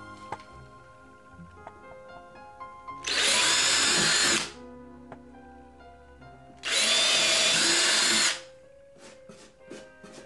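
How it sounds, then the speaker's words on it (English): A power drill with a 1/8 inch bit bores holes into the sides of a wooden owl box in two loud whirring bursts of a couple of seconds each, separated by quieter handling clicks. "we're going to use our 1/8 inch bit, which we haven't used until now, to make the holes on the two sides"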